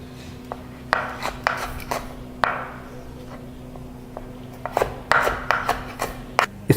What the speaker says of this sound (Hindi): अब यहाँ पे इसको आप डाइसेस भी काट सकते हैं।